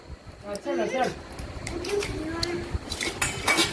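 Dishes and cutlery clinking at a family meal at home, light scattered clatters and taps under people talking nearby.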